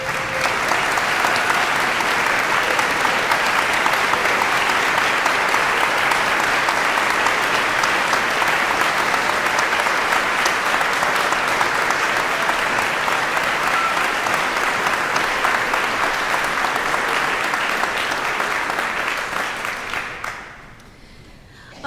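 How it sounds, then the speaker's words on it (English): An audience in a concert hall at a conservatory commencement applauds the graduating students, a dense, sustained wash of clapping that holds steady for about twenty seconds before tapering off abruptly. "so that we might applaud them for their accomplishments"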